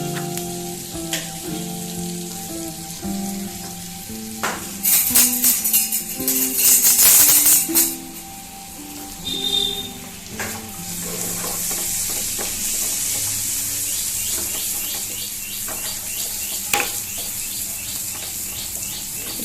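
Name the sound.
garlic and pepper frying in butter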